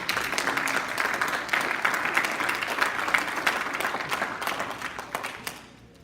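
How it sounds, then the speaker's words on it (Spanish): A church congregation applauding loudly in a steady dense wash of clapping, holding strong before thinning and fading away near the end. "Denle fuertes aplausos a Jesucristo."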